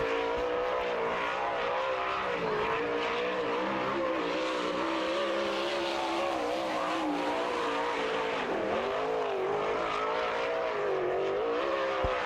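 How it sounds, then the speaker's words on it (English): Car number 84, a sprint car on the Lawrenceburg, Indiana dirt track, screams at full throttle with a steady, high-revving engine roar that rises and dips slightly as it circles, loud throughout. "Listen for the throttle, how long these guys stay on it, they never lift."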